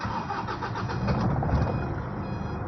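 A Toyota Hilux pickup engine, recently fitted with a lit engine warning light, cranks and catches, then runs at a steady, loud rumble with no one speaking.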